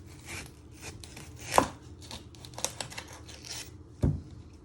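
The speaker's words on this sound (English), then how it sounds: "You're first going to chop your ends off." A knife chopping the ends off an onion on a cutting board, two sharp separate chops over a quiet background of faint kitchen handling noises.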